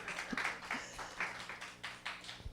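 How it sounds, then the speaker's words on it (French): Scattered, faint clapping from a church congregation applauding the Lord, a few uneven claps and brief bursts with a low hum underneath. "On peut applaudir le Seigneur."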